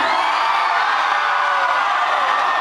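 Concert crowd in Toronto cheering and whooping, a continuous loud roar of many voices that stays steady from start to finish with no break.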